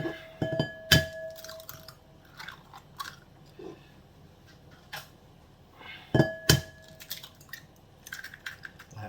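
Eggs being cracked and beaten for a quiche, with a few sharp shell taps and cracks close by, separated by quieter clinks and small kitchen noises; no talking.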